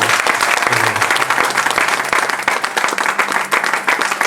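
Wedding guests applaud, a dense, loud, sustained burst of many hands clapping close by, with faint voices underneath.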